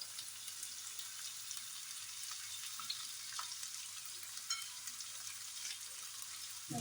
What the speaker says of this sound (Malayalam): അതേ വെളിച്ചെണ്ണ ചൂടായിട്ട് നമുക്ക് സവാള ഇട്ട് കൊടുക്കാം കറിവേപ്പിലയും